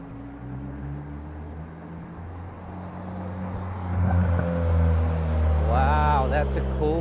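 A car drives past on a city street during a bike tour in Amsterdam, its engine noise rising and swelling toward the end over steady traffic rumble, with a voice briefly heard.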